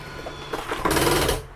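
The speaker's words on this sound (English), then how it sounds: "We're going to go ahead and put your slide out." The slide-out motor on a Jayco Jayfeather X23B travel trailer whirs and grinds as it extends the slide, a short mechanical burst that rises to a loud, rough drone for about half a second before cutting off.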